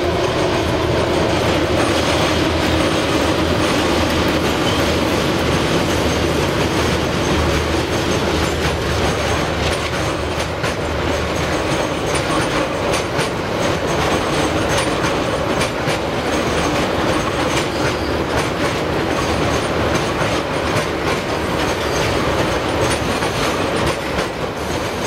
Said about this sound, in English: we see the train crossing the Rough Creek Bridge.